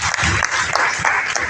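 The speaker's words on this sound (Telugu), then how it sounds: "big clap sir" Applause from a seated audience at a business seminar on waste recycling, steady dense clapping filling the short stretch with some crowd noise and voices mixed in.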